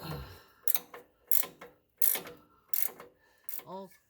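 Clamps on a replacement exhaust flex pipe are tightened with a ratchet, giving five short bursts of rapid clicking at an even pace, close and clear.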